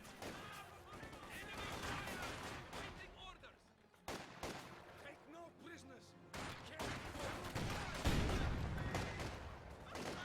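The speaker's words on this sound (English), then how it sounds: "You got a Vikenwerfer now out and firing" Wurfrahmen rocket launcher firing in Company of Heroes 2 amid a battle, with bursts of launches and explosions over scattered gunfire, a voice talking over the din.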